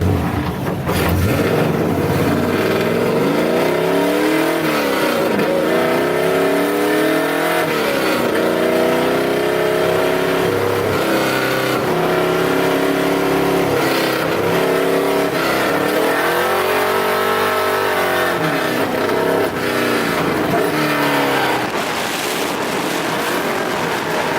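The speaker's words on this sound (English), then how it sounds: "We're gonna go out there, run a couple more laps and see how she does" A drift car's engine revs hard through laps at a Lone Star Drift round, with a loud continuous roar that climbs and falls in pitch as it accelerates and backs off, steady and dominant throughout.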